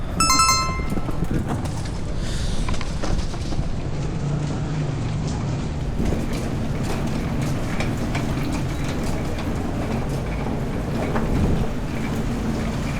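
Steady low rumble of a roll-on roll-off ferry's engines near Bantayan Island, Cebu, with broadband wind and wash noise, continuous throughout, occasional faint knocks, no clear voices.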